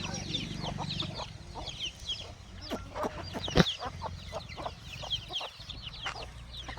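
Free-range country hens cluck in short, scattered bursts, fairly close on a farm, over a low rumbling background with occasional faint voices.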